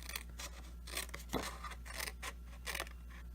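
Scissors snip through paper card for a Mama Elephant stamp craft project, giving several quiet, quick cuts and scrapes in a near, hushed room without talk.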